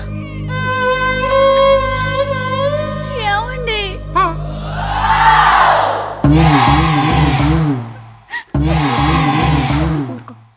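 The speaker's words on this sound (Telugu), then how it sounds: "జనం ఏంటి, ఈ గోల్ ఏంటి" Crowd commotion in a Telugu comedy scene, many loud overlapping voices shouting together, nearly continuous, with a brief sharp break near the end.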